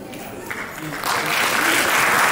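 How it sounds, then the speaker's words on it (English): Applause from an audience honouring the backstage team at a Shri Shirdi Saibaba Temple presentation, swelling from a thinner start into a loud, dense wash of clapping, with some voices mixed in. "I would like to invite those backstage heroes onto the stage for a big round of applause."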